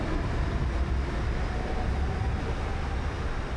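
Steady low rumble of a train at Belapur railway station on the Navi Mumbai line, a continuous broadband roar of rolling stock filling the platform without voices.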